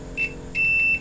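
A multimeter's continuity buzzer, used while testing the fuse of a Polytron 24-inch LED TV, gives two clear high-pitched beeps, the first short and the second longer, close to the microphone over a faint low hum.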